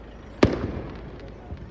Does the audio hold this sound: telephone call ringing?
no